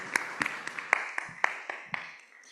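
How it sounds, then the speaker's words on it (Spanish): A small audience at a panel on historical memory and archives gives a brief round of applause, a few distinct sparse claps rather than a full ovation, fairly faint and fading out within a couple of seconds. "Un fuerte aplauso."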